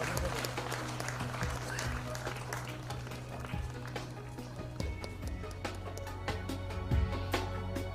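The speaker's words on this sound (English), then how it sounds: "please let's have a huge round of applause for them" An audience at the HCSC Stree Summit 2023 gives a round of applause, a fairly quiet, sustained patter of many hands over a low steady hum, with occasional louder claps.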